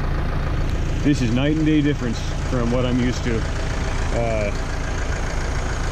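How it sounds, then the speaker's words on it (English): A tractor pulling a hay mower runs at a steady drone throughout, with someone talking close over the engine noise. "this is my first time mowing hay with this mower and this tractor"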